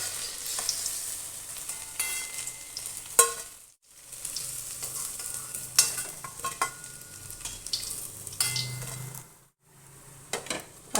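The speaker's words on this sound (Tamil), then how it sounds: "இப்போ நம்ம இதை எடுத்துகிட்டு செகண்ட் டைம் பொரிக்கலாம்." Chicken 65 pieces deep frying in hot oil, a steady close broadband sizzle with stirring scrapes and utensil clinks, briefly dipping quiet twice as pieces are lifted and returned for a second fry.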